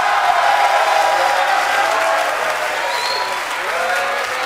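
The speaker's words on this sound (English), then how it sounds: "One more huge round of applause for TSM" Large arena crowd at an MLG pro League of Legends tournament in Anaheim applauding champions TSM, dense steady clapping with scattered cheers that stays loud throughout and eases slightly toward the end.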